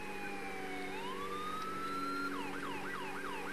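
Emergency vehicle sirens in GTA 5 during police-mode play start as a slow rising wail and then switch to a fast repeating yelp, loud and continuous, with no speech.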